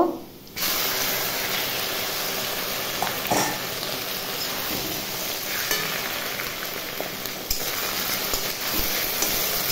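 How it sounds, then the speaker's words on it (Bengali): Young jute leaves hit a pan of fried onions, bursting into a loud close sizzle and steamy hiss that settles into steady frying crackle with occasional stirring scrapes. "এবার আমি শাক দিয়ে দেব"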